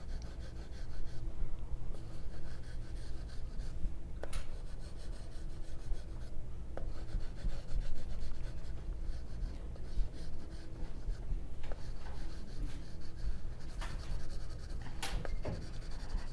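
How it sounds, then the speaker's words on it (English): Graphite pencil scratching short, light strokes on paper to shade a portrait, a quiet steady rasp close up with brief louder scrapes at intervals and no voices. "try to make your face look round with these scratchy little marks"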